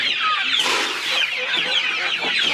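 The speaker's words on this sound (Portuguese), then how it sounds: "Agora vamos lá nas galinhas que eu vou colocar a comida para as galinhas." Free-range hens at feeding time, clucking and chattering continuously at close range, with overlapping calls from several birds and no talk.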